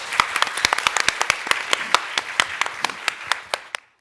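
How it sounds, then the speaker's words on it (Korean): Applause from a church audience welcoming guests to the stage, a loose patter of hand claps that thins into a few sharp, distinct claps and stops abruptly. "박수로 맞아주시죠."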